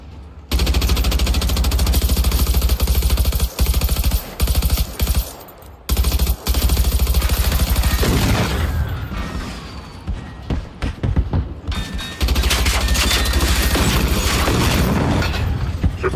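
Rapid bursts of a grenade gun firing in the Generation Zero video game, loud and sustained with booming thuds and brief pauses between volleys.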